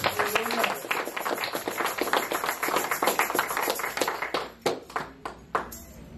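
A church congregation applauds, many hands clapping in a lively, fairly steady rhythm that thins out into a few scattered, separate claps near the end.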